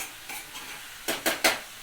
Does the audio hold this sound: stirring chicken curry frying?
yes